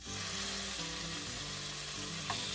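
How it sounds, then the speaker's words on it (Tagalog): Steady, loud sizzling of pork frying in a hot pan for adobo, continuous crackle throughout with a faint clink near the end. "ipiprito ko na yung ating pork."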